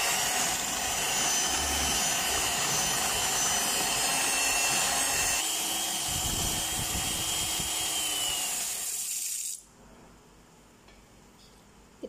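An electric mixer beats sugar into yogurt cake batter with a steady loud whir that runs evenly for several seconds, then cuts off abruptly, leaving near silence.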